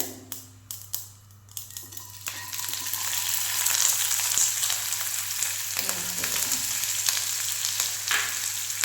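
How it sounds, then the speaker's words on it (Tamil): Onion and coconut frying in oil in a pan, opening with a few quick metallic clicks and taps before a loud, even sizzle fills the rest, staying close and unbroken with faint stirring; no voices. "இது நல்லா ஃப்ரை ஆகட்டும்."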